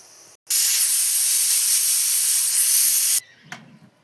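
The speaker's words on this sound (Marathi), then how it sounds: "पण आपण कुकर ठेवल्याच्या ना आपल्याला फक्त 3च शिट्ट्या होऊ द्यायच्या." A loud, continuous hiss of steam whistles from a pressure cooker for about three seconds, then cuts off, leaving faint kitchen clatter.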